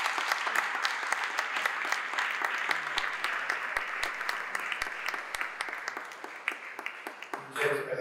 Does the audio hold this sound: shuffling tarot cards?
no